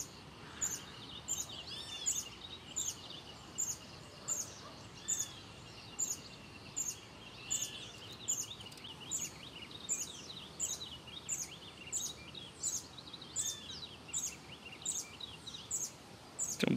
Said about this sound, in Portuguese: Tem um passarinho cantando aqui de fundo aqui, ó, parece até azulão, ó.